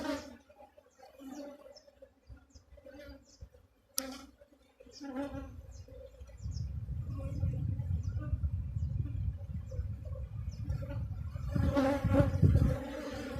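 Honeybees in an open hive box of capped honey and sealed brood, a low droning hum that swells and thickens midway and stays close and loud, with some faint background chirping early on.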